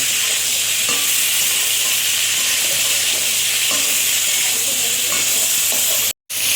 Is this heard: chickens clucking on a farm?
no